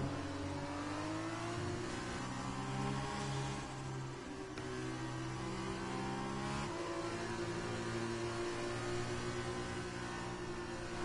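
Race cars warming their tyres in the racing video game F1 2020, a continuous layered engine drone with shifting revs as several cars weave and accelerate, steady and fairly loud throughout with no voices.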